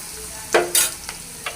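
Onions being fried in a pan for a Chittagong-style lentil and fruit curry give a low sizzle broken by a few sharp spatula scrapes, close and brief with no voices.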